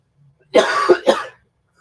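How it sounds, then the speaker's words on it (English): A person coughs hard twice in quick succession at close range, harsh and raspy bursts about half a second apart, with no speech. "I'm just coughing up a fucking lung"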